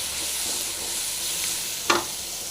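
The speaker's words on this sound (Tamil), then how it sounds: "தக்காளி போட்டு நல்லா ஃப்ரை ஆகிட்டு இருக்கு" Onions and tomatoes frying in a pan give a steady broadband sizzle throughout, close and even, with a single sharp scrape of a spoon near the end and no talking.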